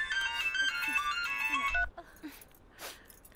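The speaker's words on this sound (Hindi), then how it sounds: "तोर फोन।" A mobile phone ringtone plays a bright electronic melody for nearly two seconds, then stops, leaving faint background sound and a brief muffled noise.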